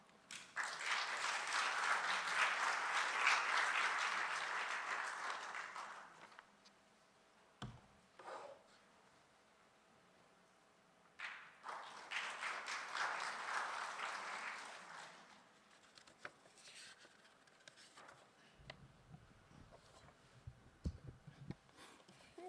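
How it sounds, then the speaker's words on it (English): An audience at an academic conference on social sciences in Asia applauds a welcomed chairman in two fairly faint bursts of clapping, fading out between them, with scattered quieter sounds in the pauses. "Please join me in giving a warm round of applause"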